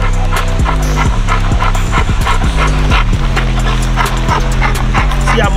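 A dog on a spring pole gives repeated loud, close barks and yips mixed with whining, in an irregular rhythm, while someone talks over the top.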